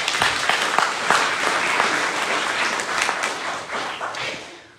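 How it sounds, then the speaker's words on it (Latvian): Sustained audience applause at a gathering of Livonian descendants in Vidzeme, dense broadband clapping from a full room that holds steady for several seconds before easing slightly at the end, with no talking over it. "es domāju, ka aplaus arī visiem"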